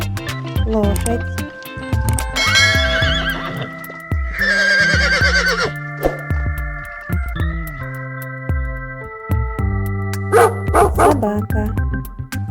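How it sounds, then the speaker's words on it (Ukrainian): A horse in a children's cartoon whinnies in two long, shrill, shaking calls over a cheerful music track, followed later by shorter, sharper animal calls near the end. "Лошадь."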